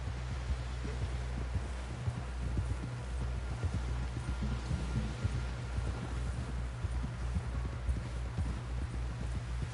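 Horse hooves clip-clop in the video game Red Dead Redemption II. They beat in a steady, fast gallop rhythm over a low rumbling bed of sound, close and continuous throughout, with no talking.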